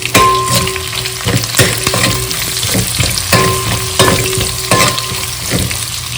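Prawn biryani masala with kasuri methi sizzles loudly in a pan while a spoon scrapes and stirs it, giving steady frying hiss and repeated clinks and scrapes close up, with no voices.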